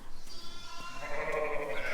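Ewes on a farm during lambing, in hot weather, bleat clearly and nearby; a wavering call rises and swells into a louder, drawn-out bleat over about two seconds.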